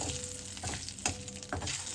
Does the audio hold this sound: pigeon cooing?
no